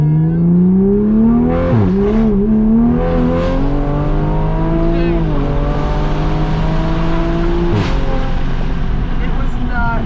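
A Toyota MK5 Supra with modifications accelerates hard in second gear on a road in Mexico, its engine note climbing steadily in pitch, dropping briefly at a shift and climbing again, loud and close from inside the car.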